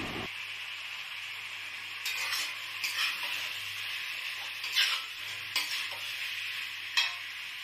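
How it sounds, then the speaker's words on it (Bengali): Fried potatoes are stirred into a vegetarian biryani in a pan: a steady, close hiss of sizzling with several sharper scrapes and clatters of the spoon against the pan. "এটাকেও কিছুক্ষণ নাড়াচাড়া করে নেব। এবার আমি ভেজে রাখা আলুগুলোকে দিয়ে দিলাম।"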